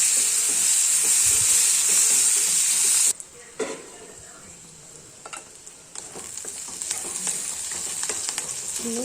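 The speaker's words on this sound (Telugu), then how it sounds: "దానిలోనే పచ్చిమిర్చి, కరివేపాకు వేసాను. వేసేసి కొంచెం ఫ్రై అయ్యేలాగా తిప్పి మూత పెట్టేసుకోవాలి." Green chillies and curry leaves fry in hot oil in a pan, a loud, close hiss and sizzle that drops sharply partway through, then stirring scrapes and softer crackling return and build.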